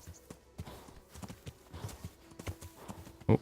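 A horse in the medieval game Kingdom Come: Deliverance walks with steady clip-clop hooves, with a breathy snort near the end and no talking.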